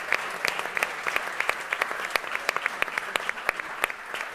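A book-launch audience applauds steadily for about four seconds, the dense clapping at moderate distance with no voices over it.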